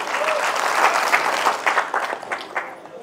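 Brisk, full applause from a large audience at a live song performance in Lucknow, steady dense clapping throughout the short stretch, fairly loud and close, tapering slightly at the end.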